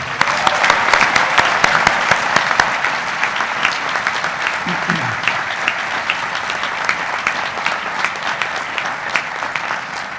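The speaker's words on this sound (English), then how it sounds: "Please join me in a round of applause to them" Sustained applause from a large audience at the 2011 Darden graduation ceremony, dense steady clapping throughout, loudest early and tapering slightly, with a brief faint voice partway through.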